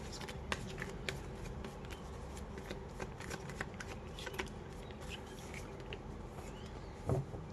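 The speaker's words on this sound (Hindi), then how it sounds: "That's to many cards. Shuffle again." Tarot cards are shuffled by hand at close range, a soft, continuous run of papery riffles and flicks with a few sharper snaps near the end.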